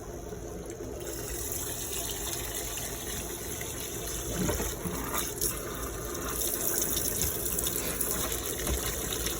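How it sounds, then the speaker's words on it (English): Cold tap water runs steadily over harvested steelhead eggs in a strainer, a continuous close splashing gush with no talk. "Run some cold water over them."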